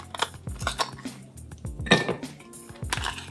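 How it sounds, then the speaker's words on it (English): Ice cubes clink and knock into glasses for an apple pie margarita, a quiet, close series of scattered glassy taps and rattles. "I'm gonna start with some ice in my glasses."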